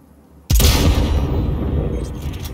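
Cyberpunk 2077 gunfire erupts after a brief quiet lull as a sudden loud blast, followed by a sustained rumbling wash of noise that slowly fades, with no talking.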